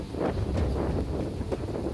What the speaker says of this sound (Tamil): பாருங்கள், காற்று எப்படி அடிச்சிட்டு இருக்குன்னு பாருங்கள் நீங்களே.